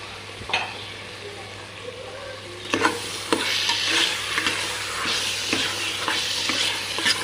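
Mushrooms stirred and frying in oil for mushroom biryani, a steady close sizzle with repeated scraping and clinking strokes of a spoon in the pan, the sizzling swelling louder midway.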